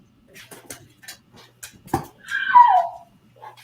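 A puppy named April gives small, soft whimpering noises, with one longer squeaky whine rising above faint scattered sounds in a quiet room.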